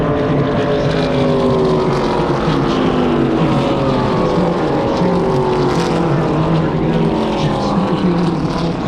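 ARCA race cars roar down the Daytona superstretch in a continuous loud engine drone with shifting, sliding pitches as several cars pass, mixed with wind noise and commentary talk.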